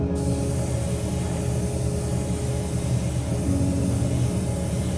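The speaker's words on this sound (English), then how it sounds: "This is now a 2K clear coat." A spray gun lays 2K clear coat onto a scale model of Ken Block's Hoonicorn Ford Mustang, giving a steady, loud, continuous hiss that holds unbroken from start to finish with no talking.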